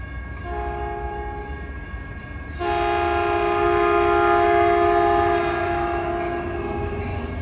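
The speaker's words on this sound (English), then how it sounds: "The P2 horns sound very distinct on the locomotives as opposed to the cab cars." A loud, sustained Caltrain locomotive horn blares in a steady multi-tone chord at Redwood City station, growing stronger partway through and holding for several seconds with no talking.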